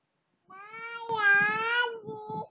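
A child imitates a cat, voicing one close, drawn-out meow that wavers in pitch and trails off at the end.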